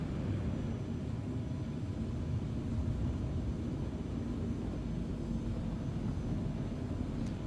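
The RSI Scorpius spaceship in Star Citizen fires its thrusters, giving a steady, dense roaring rumble that holds level throughout without breaks.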